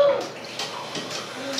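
A sink tap runs water into a basin during a classroom chemistry demo, a thin continuous splash under a person's talking, moderately close.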